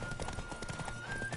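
Rapid hoofbeats of a galloping horse in The Witcher 3: Wild Hunt clatter in a quick steady rhythm, with a brief whinny-like sound mixed in.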